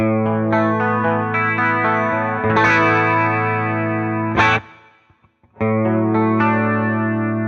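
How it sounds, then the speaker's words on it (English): Electric guitar strummed with a shimmering chorus effect, sustained chords ringing out, a brief dropout near the end, then the chords return. "What if we just play around with the chorus a little bit here?"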